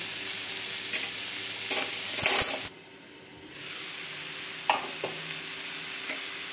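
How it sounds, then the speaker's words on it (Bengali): Vegetables fry gently in a pan over low gas, with a soft steady sizzle, a few sharp utensil clinks and scrapes of stirring early on, then a quieter, continuous hiss. "এবার আমি গ্যাসটা কমিয়ে দিয়ে আমি এটাকে ভাজবো"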